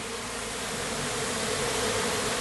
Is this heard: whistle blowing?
no